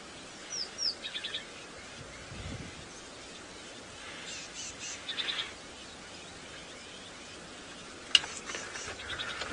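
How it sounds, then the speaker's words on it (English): Birds call and chirp in short, scattered bursts, faint to moderate over a steady background of rushing water, heard on a sunrise safari drive in the bush. "Lots of birds making noise."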